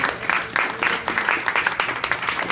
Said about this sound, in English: I'd like to give a big round of applause to Fred and Linda